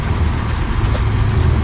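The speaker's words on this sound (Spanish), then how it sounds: "Ahí sin querer me tocó ver un camión militar" A Russian military truck rumbles past with a heavy, low, continuous engine drone heard close and loud, along with steady road noise, in a short stretch with no talk.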